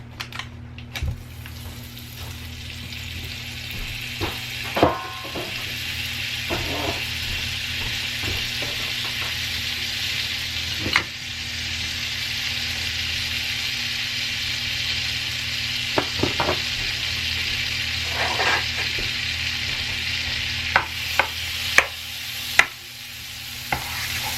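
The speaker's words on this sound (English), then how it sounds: "now to the pan, I'm going to go ahead and add some butter" Butter sizzles steadily in a hot pan, a continuous crackling hiss with occasional louder clicks and scrapes from stirring, close and alone without talk.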